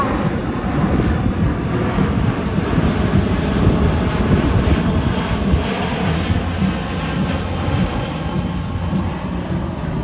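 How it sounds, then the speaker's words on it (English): A large airplane roars overhead at the America's Air Show at MCAS Miramar, a loud, steady engine drone that holds for the whole stretch. "that's a big airplane"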